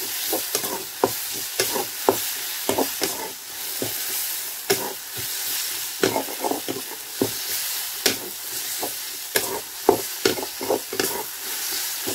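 Onion and tomato frying in a pan for Yippee noodles, heard as a continuous sizzle broken by rapid scraping and clacking of a spatula stirring, close up with no voices.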